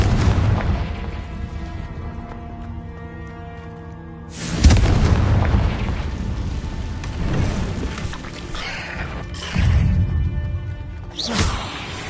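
Booming Confringo spell explosions in the Hogwarts Legacy video game inside a cave, several heavy blasts with whooshing tails, loud and close with no talking.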